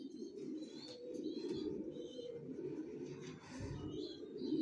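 Racer pigeons, a pair of young adults, coo in a steady low murmuring rumble that runs throughout, with faint chirps and twitters from other birds above it and no talking.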